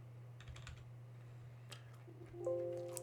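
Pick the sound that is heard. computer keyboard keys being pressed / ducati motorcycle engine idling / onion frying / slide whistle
computer keyboard keys being pressed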